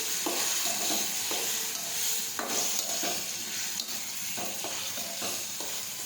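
Chopped banana sautéing with mustard seeds and cumin in hot oil, a steady sizzle and fry running throughout, with repeated scraping stir strokes from a spatula close by and no talk.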